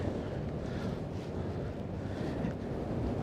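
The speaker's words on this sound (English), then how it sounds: "It's so windy out here." Steady, rough wind buffeting the microphone at night in Brooklyn, New York, a continuous low rumble and roar throughout with no voices.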